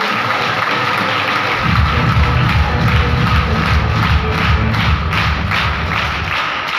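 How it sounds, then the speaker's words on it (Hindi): A seminar audience in Sagar breaks into loud, sustained clapping after a quiet moment, a dense crowd of hands continuing without pause. "एक बार रोशनी मैडम की जोरदार क्लैपिंग"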